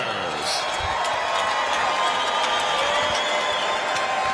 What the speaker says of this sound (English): let's have a big round of applause for these two warriors